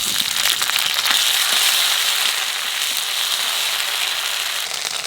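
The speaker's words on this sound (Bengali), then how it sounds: "আদাটা একটু বাজিয়ে নিচ্ছি" Ginger paste fries in hot oil with bay leaf and black cumin, a loud, dense, continuous sizzle and crackle close up, with no talking.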